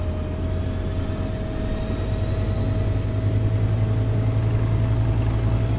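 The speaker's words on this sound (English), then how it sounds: "I hear a helicopter." A helicopter in the train simulator game Train Sim World 4 gives a steady, continuous droning engine and rotor hum at an even loudness, with no talking.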